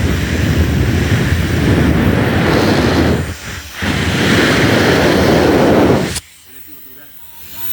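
Roaring hurricane wind and rushing water hold a loud, steady wash of broadband noise for about six seconds, briefly dipping midway, then cut off abruptly into a much quieter background.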